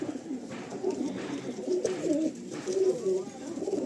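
A single female Nazra Kaldom pigeon, a long-size breed, coos close by in low, throaty, repeated murmurs over a faint background hum.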